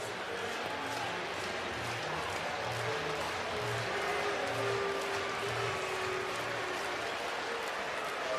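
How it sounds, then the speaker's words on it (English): Steady standing ovation from a baseball crowd at the 2023 Men's College World Series final between LSU and Florida, a broad sustained wash of applause and crowd noise filling the whole stretch at a moderate, distant level. "the crowd will once again settle down after giving him a standing ovation"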